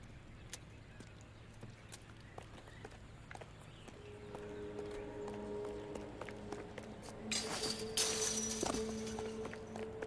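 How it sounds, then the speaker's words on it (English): A horse's hooves clip-clop in a steady walking rhythm inside the video game L.A. Noire, faint and somewhat distant over low ambient game noise, with a brief burst of broader noise near the end. "There's a horse here."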